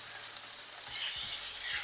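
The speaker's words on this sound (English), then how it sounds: "You guys hear the sizzle?" Close, steady sizzling of chicken frying on a hot griddle, with a few soft scraping knocks near the end.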